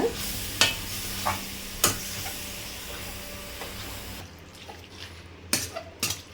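Squid (kanava) masala stirred in a kadai, a spoon scraping the pan in a few sharp strokes over a steady low sizzle and hiss, close and clear with no talk.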